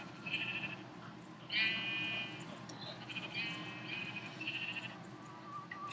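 Sheep bleats from a Minecraft-style game built like Slither.io, heard as a few thin, wavering calls at moderate volume over a steady background hum, with short pauses between them.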